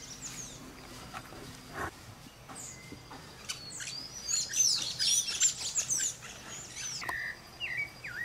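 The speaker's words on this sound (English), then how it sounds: "Uh-oh, a lot of ruckus. These are maroon-bellied parakeets." Maroon-bellied parakeets in Rio de Janeiro State, Brazil, raise a noisy chorus of harsh, overlapping chirps and squawks. The calls are sparse at first, then build into a dense, moderately loud burst midway before tapering off, with no voices.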